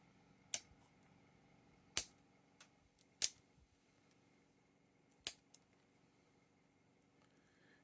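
Scissors snip wooden plank pieces off a miniature base in sharp, isolated clicks spaced irregularly, close and clear against a quiet background with no talk.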